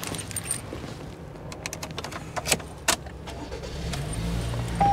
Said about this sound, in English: Let's go ahead and turn on the car for the sake of the video.